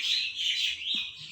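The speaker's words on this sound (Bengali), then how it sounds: "খুব সুন্দর পাখি, আপনারা শুনতে পাচ্ছেন কিনা জানি না।" A bird sings outdoors beside a Malabar nut (basak) tree, giving a quick run of bright, high chirps that rise and fall. The calls are fairly faint and close together, heard alone over a quiet outdoor background.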